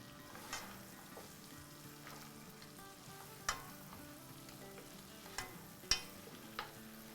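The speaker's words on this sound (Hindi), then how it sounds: "देखें कैसे ज़बरदस्त तरीके से ये फ्राई हो रहा है हमारा।" Biryani ingredients frying in a pan, a steady soft sizzle with occasional sharp pops and spatters, close and fairly quiet with no voices.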